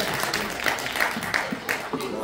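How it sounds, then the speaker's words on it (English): A church service audience gives a light round of applause, soft and diffuse, with scattered claps and a voice talking over it. "give yourselves a round of applause"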